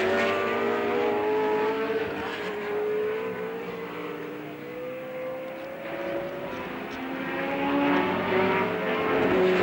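A 1968 Tasman Championship race car engine at Warwick Farm circuit drones and shifts pitch as it runs, swelling and easing with distance, heard moderately loud without speech.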